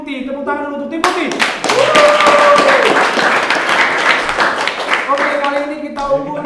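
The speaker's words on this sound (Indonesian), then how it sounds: "Tepuk tangan dulu untuk tim putih." An audience claps for the white team during an Indonesian game show, with a short burst of applause rising between stretches of a host's voice and music.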